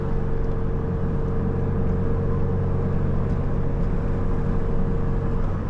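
A car driving at night, heard from inside as a steady low engine and road drone with a constant tonal hum, even and unbroken throughout, with no talking.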